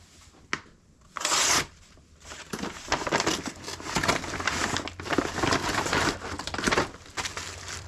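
Plastic shipping bags are cut open and unboxed close up, with crinkling, rustling and tearing plastic, brief cutting noises and handling sounds in irregular bursts.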